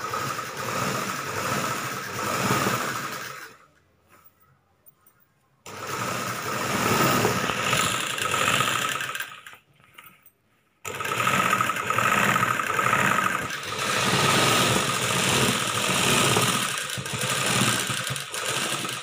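A sewing machine stitches a churidar top in three long, steady runs of rapid whirring, separated by two brief pauses, loud and close.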